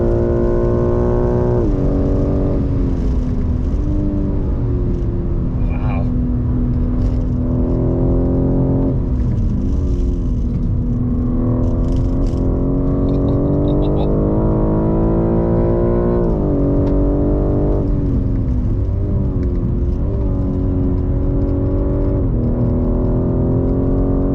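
A BMW M3 Competition G80 drives hard around a race circuit, its engine a loud, steady roar that climbs through the revs and dips briefly at gear changes, with no talk over it.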